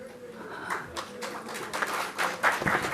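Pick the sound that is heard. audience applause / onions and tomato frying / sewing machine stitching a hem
audience applause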